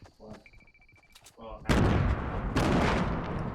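A grenade goes off in the video game Fortnite after a few quiet game sounds, a loud close blast followed by a second burst and a lingering crackling roar. Voices talk earlier in the moment.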